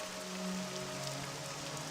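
Steady rain hiss in the game Morrowind, dense and even throughout, with a faint tonal hum underneath and no talk.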